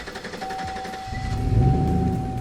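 A McLaren convertible's roof retracts with a steady electric motor whine holding one pitch, joined halfway through by a louder low mechanical rumble as the panels move, close by with no talking.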